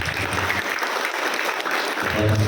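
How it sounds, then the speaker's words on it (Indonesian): An audience applauds a supervisor at a customer-service training event, a dense, steady patter of clapping at moderate volume that carries through the whole short stretch, with a voice briefly surfacing near the end. "Boleh tepuk tangan untuk Bapak."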